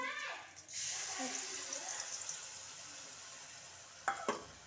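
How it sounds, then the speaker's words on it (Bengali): Spice paste stir-fried in a pan for a fish dish, heard as a steady close sizzle and hiss that starts after a brief faint voice, with a couple of sharp scraping knocks near the end. "চলো এবারে মশলাটা একটুখানি কষিয়ে নিই"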